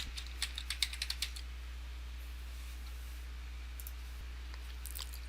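A short burst of quick computer-keyboard keystrokes, about ten clicks in a row, then a quiet electrical hum with a few faint taps near the end.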